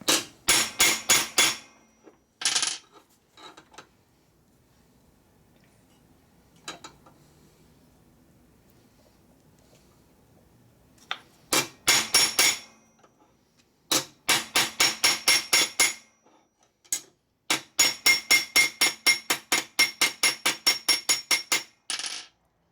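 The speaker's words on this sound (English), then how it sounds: "That has to be done with a hammer." Steel hammer blows on the bent brake pedal of a 1942 Harley-Davidson WLC/WLA 45 motorcycle being straightened, sharp ringing strikes in rapid bursts separated by quiet pauses, close and loud, several dense runs of evenly spaced hits toward the end.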